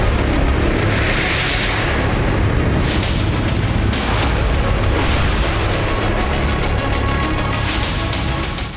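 Drone strike explosion at the Engels Russian airbase, which houses Tu-160 strategic bombers: a loud, continuous roaring rumble of blast and fire, with sharper bursts cutting through near the middle, and no voices.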